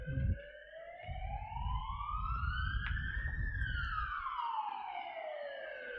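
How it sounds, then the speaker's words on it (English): Ambulance siren sweeping past with a rising then falling pitch as it nears and recedes, loud and clear over low background rumble, heard beside a lawn bowls green during a national championship. "The ambulance goes screaming past."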